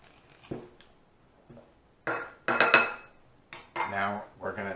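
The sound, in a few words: mixing pierogi dough ingredients together in a bowl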